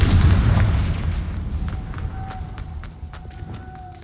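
A Confringo blast spell goes off in Hogwarts Legacy as a heavy, close boom, and its rumble decays over a few seconds into faint scattered crackles and clicks.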